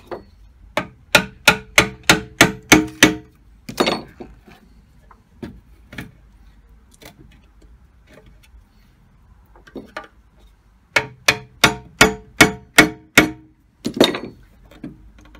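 Screwdriver forcing open the glued casing of an old gas meter, heard as a quick run of sharp, close tapping and scraping knocks, a pause with scattered faint clicks, then another burst of knocks.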